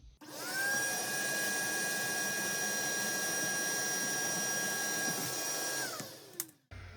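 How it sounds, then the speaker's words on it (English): A shop vac cleans out the cabin air filter housing of a 2016 Honda Civic, its steady loud whine starting abruptly, holding for about five seconds, then winding down as the motor cuts off. "I'm just going to suck it out with a shop vac real quick"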